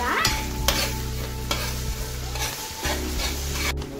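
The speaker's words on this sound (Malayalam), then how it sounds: "ഇനി നമുക്ക് ഇതിലേക്ക് ഇഞ്ചി ഇട്ട് കൊടുക്കാം." Ginger stirred and frying in a pan of oil for a large batch of Kerala masala beef fry, a steady close sizzle broken by several scraping stirs of a spoon, with no talking.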